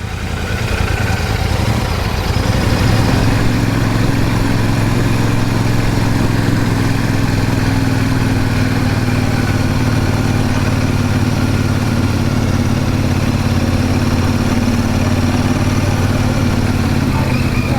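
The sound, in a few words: Royal Enfield 650 motorcycle engine while riding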